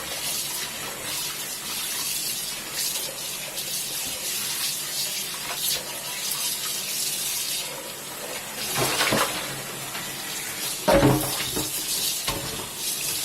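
Tap water runs steadily while dyed yarn is rinsed of excess DyFix solution, a continuous splashing wash with a louder gush near the end.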